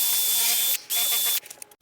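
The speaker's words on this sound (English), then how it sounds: "I'm going to drill in at an angle" A power drill bores into wood at an angle with a 1/8-inch bit, a loud close whine running in two steady bursts with a brief pause between, then trailing off in short spurts.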